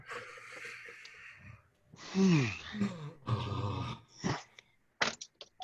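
Several people let out exaggerated fake yawns one after another, drawn-out groaning breaths and gasps rising and falling, fairly close.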